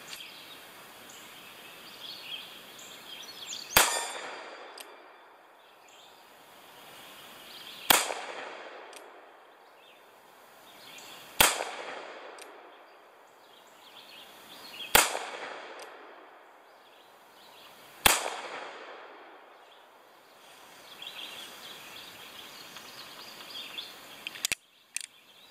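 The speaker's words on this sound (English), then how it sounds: "here goes 5 shots" An Uberti 1873 revolver fires five shots of 250 grain Colt 45 outdoors, sharp reports spaced several seconds apart, each followed by a rolling echo, with faint birdsong in the background.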